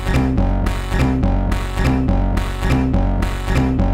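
A synth, Ableton's Drift, plays a repeating techno chord pattern in short, punchy bursts, each note ringing out into a spacious reverb tail.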